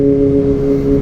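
Kawasaki ZX-25R motorcycle fitted with a Prospeed Shark Black exhaust, giving a loud, close, steady high-revving engine drone with a strong tonal buzz, heard alone without talk.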